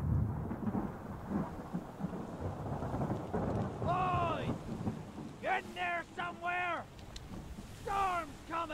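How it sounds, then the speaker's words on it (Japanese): In the ship mystery game Return of the Obra Dinn, a steady rumble of thunderstorm and rain fills the background while a voice speaks in repeated short phrases over it. "嵐が来るぞ。"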